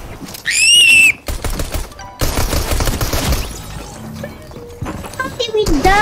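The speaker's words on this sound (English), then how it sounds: "No, someone shooting me." Gunfire in the Fortnite video game sounds in short bursts around a house, mixed with whistling game effects and sharp impacts, while a player talks over the action.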